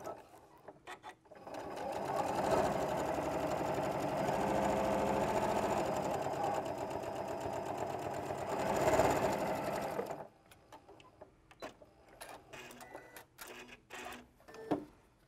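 A sewing machine runs a straight stitch on a rolled hem, its fast steady mechanical whir lasting about ten seconds before stopping, followed by scattered light clicks and handling noises.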